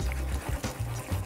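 Beaten eggs pour into a hot omelette pan in a brief, soft, close liquid splash and trickle lasting about a second, with no talking.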